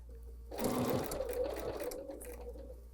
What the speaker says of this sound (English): And we're going to sew a good at least inch into that.